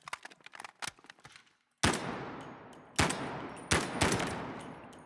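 A fast-firing gun in the Delta Force shooter lets off rapid bursts, quick light shots first, then three loud booming reports each trailing into a reverberant decay.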